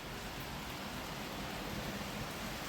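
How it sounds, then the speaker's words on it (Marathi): Morning rain falls in a steady, even hiss of dense drops at a constant level, with no voices. "असा काय पाऊस चालू झालेला आहे."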